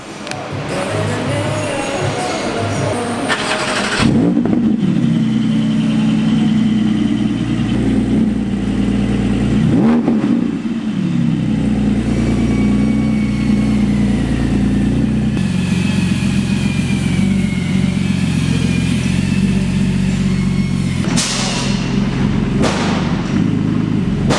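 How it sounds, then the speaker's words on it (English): Porsche GT4 fitted with a Milltek exhaust with no backbox, starting up and idling: a loud, deep, continuous engine rumble with a few revs and thumps that shift the tone throughout, with no talk. "This is a no backbox startup."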